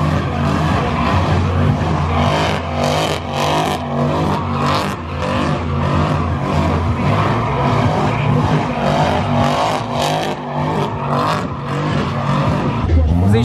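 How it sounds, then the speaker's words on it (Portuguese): Cars drift at a drag strip in Los Angeles: engines rev loudly and tires squeal in repeated bursts, with a crowd's noise and talking underneath throughout. "Vamos aqui agora ver mais uns drifts"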